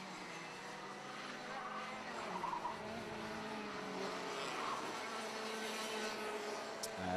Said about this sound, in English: We've got a mix of 2-stroke karts in this one as well. So you'll hear the different engine notes between the Rotaxes.